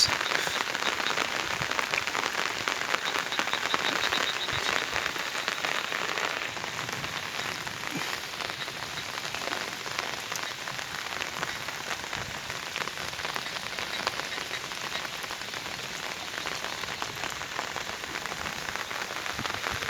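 Heavy rain pours over green rice fields in a steady, dense hiss of drops hitting the ground. It stays constant and fairly close throughout, with no voices.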